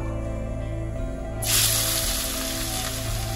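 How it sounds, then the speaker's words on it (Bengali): Four chopped medium onions and six green chillies hit hot oil with bay leaf, a steady close sizzle that suddenly swells into a bright hiss partway through and keeps going. "পেঁয়াজটা আমি হালকা লাল লাল করে ভেজে নেবো আমি"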